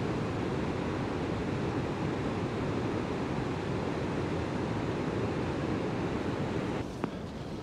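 Niagara Falls in winter sends up a steady, dense roar of falling water with ice building below. The broadband rush holds constant and loud throughout, with a brief soft knock near the end and no voices.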